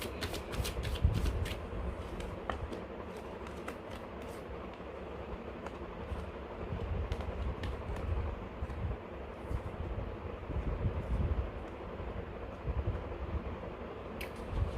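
Tarot cards shuffled by hand for a short reading, a steady soft riffling rustle with repeated crisp flicks and snaps, continuous at moderate level for the whole stretch with no talk over it.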